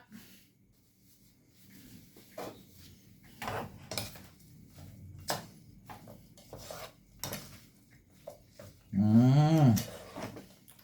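Toasted rice is stirred into a dish in a pan: a series of scraping, clinking utensil strokes against the metal, irregular and close, with a short voiced sound near the end.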